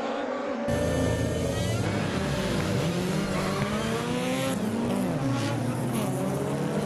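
Several touring race cars roar and rev hard together at a race start, engines rising in pitch as they accelerate away, loud and close with overlapping whines.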